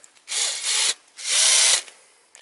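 A handheld power drill whirs in two bursts, each lasting under a second, close by, with small clicks and handling noise between them.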